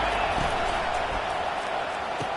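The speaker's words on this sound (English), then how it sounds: "Listen to this crowd just shaking the girders of this place trying to help their defense." A roaring stadium crowd at a Georgia at Miami college football game, cheering as a dense, steady wall of noise throughout, with faint thumps beneath.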